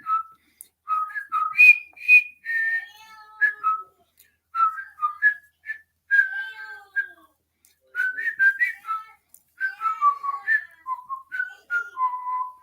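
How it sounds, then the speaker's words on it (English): Several people whistle a jaunty tune in the group whistling scene from the film The Breakfast Club, clear melodic phrases with short pauses between them and no talking. "you then get the whistling scene where they all go"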